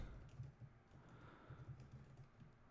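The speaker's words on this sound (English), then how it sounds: "Sorry, I'm typing." Quiet clatter of typing on a computer keyboard, soft irregular key taps in bursts against faint room noise, no one speaking.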